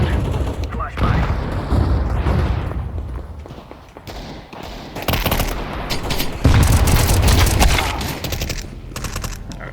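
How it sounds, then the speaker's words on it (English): Counter-Strike 2 match with bursts of gunfire and thudding blasts, including a flashbang, crackling in dense volleys across the whole stretch, loud and close, with intermittent speech over the action. "Grenade out. Flashbang."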